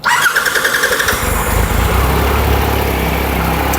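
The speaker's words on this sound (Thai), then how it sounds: "สตาร์ทแช่เดียวติดนะ ไม่ต้องมีบิดช่วยนะครับ" A 2013 Triumph Tiger Explorer 1200 three-cylinder motorcycle engine cranks with a rapid whirring starter, catches on the first try, and settles into a loud, steady idle close by.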